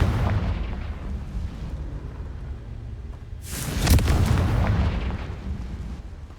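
Confringo blasting spell from Hogwarts Legacy going off as a single loud booming explosion midway, over a low rumbling game background with no talk.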